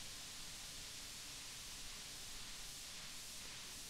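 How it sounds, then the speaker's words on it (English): Synthesizer white noise sent through a modulated echo filter, a steady, dense hiss whose brightness slowly sweeps and shifts, heard alone with no speech. "we can get maybe an evolving noise sound"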